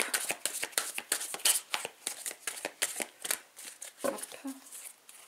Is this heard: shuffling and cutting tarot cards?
yes